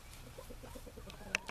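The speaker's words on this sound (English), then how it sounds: "here comes my other rooster" A rooster on a backyard flock is heard briefly at a distance, a short faint call-like burst amid low background noise, with a sharp click near the end.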